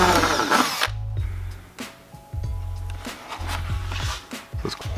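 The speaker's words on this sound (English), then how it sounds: "Let's find a drill bit for that. 13/64 seems to be the magic number." A power drill with a 13/64 bit bores into metal inside a 2005 Acura TL, in three short whirring bursts separated by pauses, close by, with small clicks and handling noises between.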